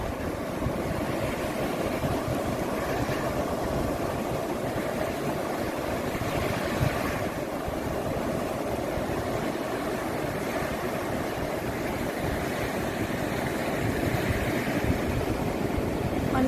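Strong wind and breaking sea waves on Jomtien beach in Thailand on a morning, a steady, unbroken roar of surf and gusts that continues throughout with no voices.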